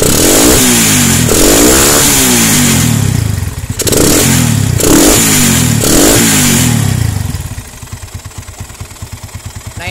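A Honda Tiger motorcycle engine, close and loud, is revved several times in rising and falling surges, then settles into a steady, chugging idle.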